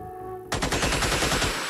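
Suppressive machine-gun fire in the alien-combat game Xenonauts X-Division: a sudden loud burst of rapid automatic shots begins after a brief quiet lead-in and continues as a dense, rattling volley to the end.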